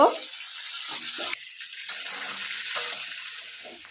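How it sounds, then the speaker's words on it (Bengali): Chopped vegetables with drumstick flowers, dried chilli and salt sizzle in a pan as they are stirred, a dense hiss that jumps louder after a clatter partway through, close up with no talk. "এরপর এগুলো আমি একটু নেড়ে চেড়ে নেব"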